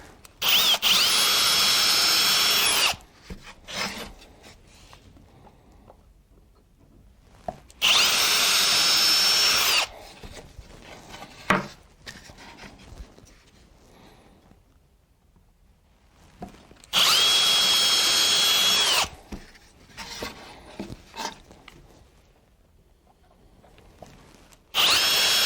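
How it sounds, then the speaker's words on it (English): A power drill bores holes through a carved wooden condo sign in three loud, close bursts of high whine, each lasting a couple of seconds, with quieter shop noise and shuffling between them. "We're just going to drill these out."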